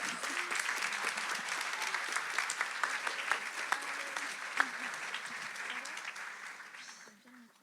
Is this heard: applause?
yes